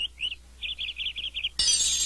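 Cartoon birds chirp in a garden, several quick, high tweets in a row, fairly close and clear with no talking, before a bright rushing burst cuts in at the end.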